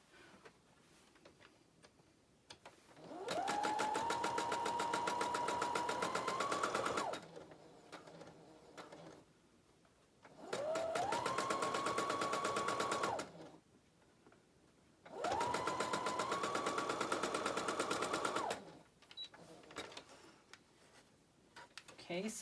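Domestic sewing machine stitching a quilt block seam runs in three steady bursts of about four seconds each, with a whirring motor tone that ramps up at each start, separated by short pauses.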